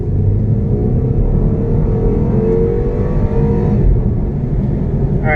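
A BMW X2 F39 in sport mode accelerates hard from the cabin, a loud sustained engine rumble with rising tonal harmonics and a brief dip around the four-second mark as it shifts on its own, with no speech.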